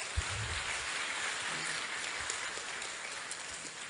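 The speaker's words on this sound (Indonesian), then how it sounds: "Beri tepuk tangan untuk mereka." A congregation at a youth Mass applauds in a dense, even, rain-like wash of clapping, fairly soft and distant, continuing steadily and gradually thinning toward the end.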